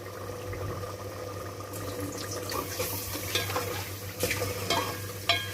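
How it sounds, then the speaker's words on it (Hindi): Spice masala frying with ginger-garlic paste and a splash of water for radish and spinach bhujiya, a steady sizzle with scraping stirs and clinks building toward the end, no talking. "मसाले को अच्छी तरह से भूनना है। लहसुन अदरक का पेस्ट 1 चम्मच चाय वाला,"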